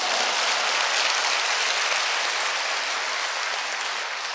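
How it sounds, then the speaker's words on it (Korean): A church congregation applauding during a revival service, dense steady clapping from a large crowd, loud and sustained with no talk over it. "수준 있는 교회는 이때를 박수를 칩니다."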